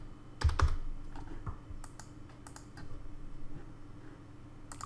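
Rapid, uneven keystrokes clatter on a computer keyboard as an IP address is entered, close and moderately quiet with a few sharper clicks and no talking.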